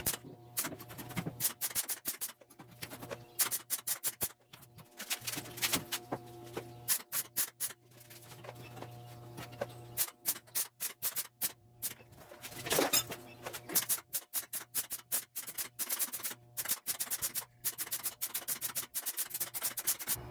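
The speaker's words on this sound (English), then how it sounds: "So now I'm going to go ahead and just start tack welding all the way down." Tack welding rusty Jeep Cherokee body metal, a rapid series of sharp crackling bursts and clicks repeating over steady background hum, close and fairly loud with brief gaps between tacks.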